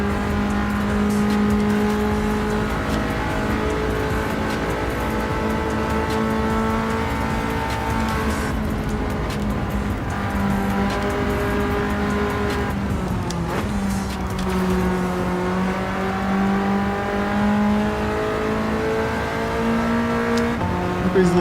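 Nissan GT-R race car engine in Gran Turismo 7 drones steadily at high revs for the whole stretch, pitch dipping and climbing through gear changes, loud and continuous, with occasional faint talk beneath.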